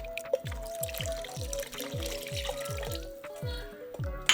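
Water pours from a tap or container into a cooking pot of beef rigatoni sauce with beef broth and diced tomatoes, a steady running liquid sound with soft rhythmic low thumps beneath, close and moderately quiet.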